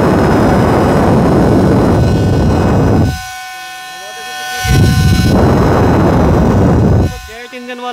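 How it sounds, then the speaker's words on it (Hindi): A small portable jet-engine style fan roars very loudly close by with a harsh broadband rush, cutting out for about a second and a half before starting up again, then dropping away near the end with a whine. "जेट इंजन वाला फ़ैन है, जेट इंजन वाला।"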